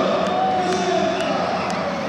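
Volleyball fans fill an indoor arena with a steady, loud roar of cheering and chanting throughout, with a few sharp claps or bangs standing out above the crowd.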